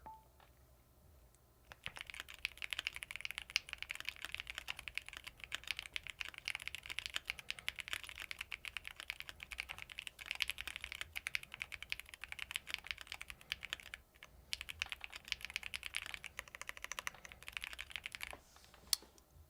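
Fast, continuous clicking of a computer keyboard, close and fairly quiet, keys tapped in rapid bursts for nearly twenty seconds with brief pauses.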